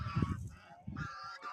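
A flock of geese honking at close range, a few loud nasal honks in quick succession with short pauses between them.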